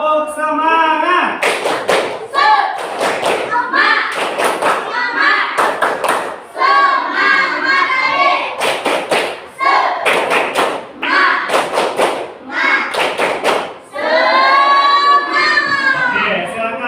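A classroom of children claps in rhythmic bursts of loud, sharp claps, in the Indonesian "tepuk semangat" spirit-clap routine. Children's voices chant along between the claps.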